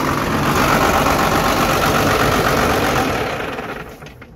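A 12-valve diesel swapped into a pickup truck runs with a steady, loud idling clatter for several seconds, then fades and dies away as the fuel shutoff stops it.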